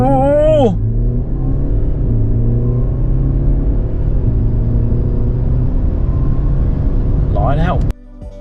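A Mercedes GLE SUV engine revs high and roars steadily as it accelerates hard from a standstill, loud and close, with a voice exclaiming at the start and end.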